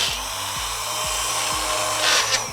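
Blender whirring steadily as it blends chicken keema from coarse to fine, a continuous motor drone with rhythmic low thumps of the meat churning in the jar, alone without talk.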